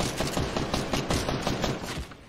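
Rapid bursts of automatic gunfire from the video game Fortnite crackle in a dense, steady volley, loud and continuous with no speech over it.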